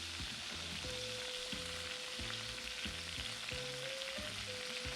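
Italian sausage and peppers fry together in a pan with a steady, even sizzle. A rhythmic tonal backing, like music, runs underneath throughout.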